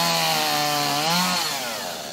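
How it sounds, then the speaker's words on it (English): A chainsaw cutting through trees downed by an EF-2 tornado in DeLand, a loud, close, continuous buzzing whine that shifts pitch as the blade bites into the wood, then eases slightly. "Generators and chainsaws drowned out much of the sound of neighbors checking up on one another."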